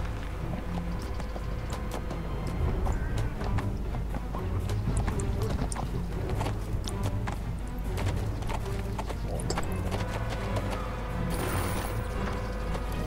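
Horse hooves clip-clop steadily in the online game Neverwinter, a continuous close trotting rhythm over a dense layer of game sounds and background music, with faint talk at times.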